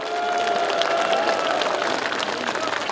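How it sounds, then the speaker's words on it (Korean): A crowd applauds at the unveiling ceremony of a President Park Chung-hee statue, a sustained wash of clapping with some cheering while a voice or tone runs faintly beneath. "이 영웅들에게 뜨거운 격려의 박수를 부탁드리겠습니다."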